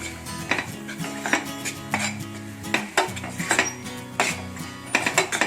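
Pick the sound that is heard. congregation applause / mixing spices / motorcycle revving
mixing spices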